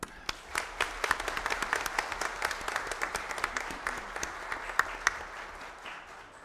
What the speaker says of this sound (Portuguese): Peço a todos esses presidentes uma salva de palmas.